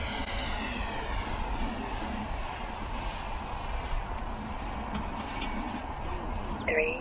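A Freewing Gripen RC jet with thrust vectoring flies overhead, producing a steady, fairly loud whooshing turbine roar that holds for several seconds with no voices.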